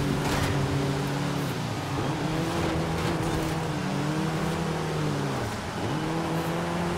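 Racing car engine in Forza Horizon 5, a Mercedes-Benz 190E 2.5-16 Evolution II climbing an uphill race, droning loud and steady with pitch rising and falling through gear shifts, alone.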